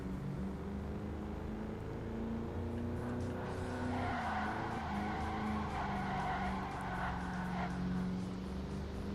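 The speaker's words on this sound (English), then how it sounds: "That should give me way more feet of drifting because I drifted way before it actually came up on my screen" Ford Racing 3 video game car drifting, a sustained tire skid squeal rising midway over a steady engine drone, loud and continuous with no talking.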